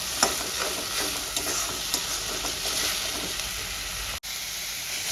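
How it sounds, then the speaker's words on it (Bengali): Tomato is stir-fried in a hot pan for a light katla fish curry with potato and pointed gourd, giving a steady close sizzle broken by soft scraping stirs. "টমেটোটা দিয়ে আমি খুব ভালো করে কষিয়ে নিয়েছি।"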